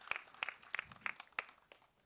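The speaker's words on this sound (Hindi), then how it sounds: "कृति के लिए जोरदार तालियां हो जाए." Scattered claps from an audience at the Shaadi Mein Zaroor Aana trailer launch greet actress Kriti Kharbanda. About half a dozen sharp, separate claps ring out sparsely and faintly, never building into full applause.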